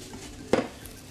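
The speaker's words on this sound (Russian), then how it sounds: "Можете помешать ложкой." A spoon knocks once against the metal of a cezve while stirring coffee with sugar, a single short clink in a quiet kitchen with no talk.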